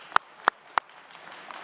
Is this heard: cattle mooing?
no